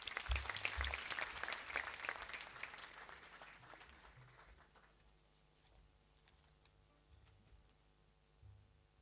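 Audience clapping at a girls' college speech and prize giving day, fairly loud at first, then thinning and fading over several seconds to a quiet, sparse patter.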